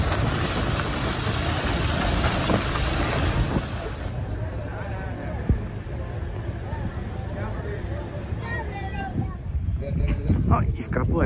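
A steady motorcycle engine rumble runs throughout, loud and continuous, with wind-like noise over it, while riding in South Sudan.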